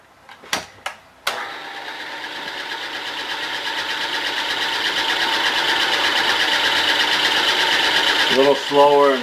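Aluminum being machined while flooded with coolant makes a steady, gritty whir that slowly builds in loudness. A few sharp knocks come first, and a brief rising mechanical tone closes it.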